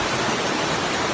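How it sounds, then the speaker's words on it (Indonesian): Waterfall at Langkuik Talago in Malalak Selatan, a steady, loud broadband rush of falling water that stays even and continuous throughout, with no voices. "Langkuit itu artinya air terjun"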